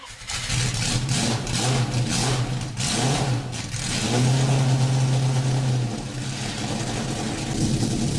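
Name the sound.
1991 Jaguar XJ15 engine startup in video game Driving Empire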